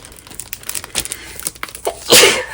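Crinkly cardstock rustling and handling noises lead into a sudden sharp sneeze near the end, close and loud.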